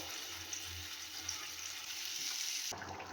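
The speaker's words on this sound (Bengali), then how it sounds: "এবারে আমি এর মধ্যে দেখো এই যে ভেজে রাখা পকোড়াগুলো দিয়ে দেবো।" Fried pakoras dropped into a pan of chili sauce set off a steady sizzle and bubbling, with a short clatter near the end; no voices.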